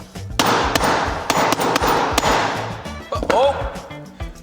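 A hammer strikes a phone screen protector in a series of sharp, metallic clangs, about eight hard hits in a steady rhythm, loud and close, with a brief exclamation near the end.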